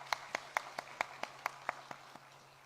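Slow, evenly spaced claps from a church congregation during a Sunday worship service, about ten sharp hand claps in a steady rhythm, fairly faint and fading toward the end over a low steady hum.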